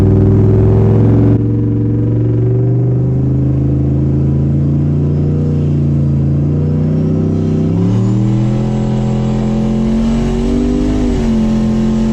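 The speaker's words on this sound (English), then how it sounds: "we're gonna foot on the brake, foot on the gas until this reads like 1 plus 1" A 1000HP GMC Sierra pickup held on the brake while the throttle is pressed, its engine roaring loud and close in a steady sustained rumble that climbs in pitch near the end, with no talk over it.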